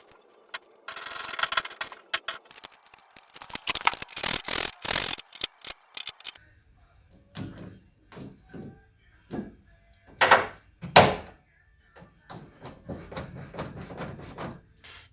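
Hands fit an exterior door handle onto the door of a 2011-2015 Hyundai Sonata, producing a rough scraping rub followed by a scattered series of light plastic clicks, taps and knocks, close up with quiet gaps between them.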